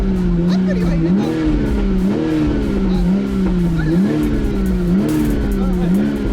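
A Toyota GR Supra engine is blipped repeatedly under throttle, giving a loud, close series of about five rising and falling revs in a steady rhythm.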